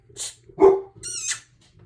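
Dog barking at something outdoors in snow, with several sharp, fairly close barks spread over about two seconds and a low background hum.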